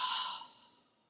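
A single long exhale during a Pilates exercise, a soft breathy sigh close to the microphone that fades out over about a second.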